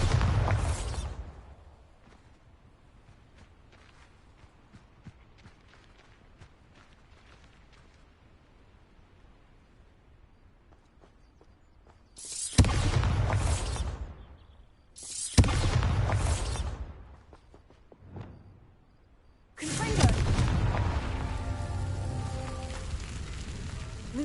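Bombarda spell explosion in Hogwarts Legacy, heard as several loud, sudden booming blasts with rushing debris noise after a long quiet stretch, the last burst sustained and rumbling.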